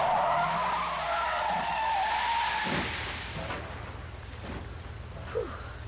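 A car in the video game Deadly Premonition skids with loud tire squeal and engine roar, then a crash-like thud at about the midpoint gives way to lower rumbling and scattered knocks, with no talk.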